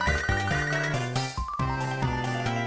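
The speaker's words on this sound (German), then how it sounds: "Da klingelt das Telefon oder war das eine E-Mail? Es war eine E-Mail." A short electronic jingle of bright, stepped tones plays as an email notification in Pokémon HeartGold, steady and fairly loud over game music with no talk.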